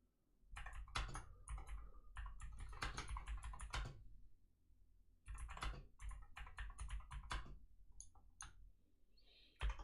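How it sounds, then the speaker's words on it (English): Loud, clattery typing on a computer keyboard nearby, bursts of rapid key clicks separated by short pauses. "Ooh, that's a loud keyboard."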